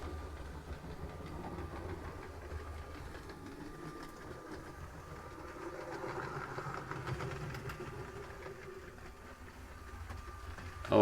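A motorized LEGO Metro train runs along its track and passes through a toy tunnel, giving a faint, steady whirring rumble that stays low and continuous throughout.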